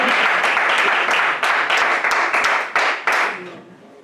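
Church congregation clapping in praise, loud dense applause with periodic accents that fades out near the end.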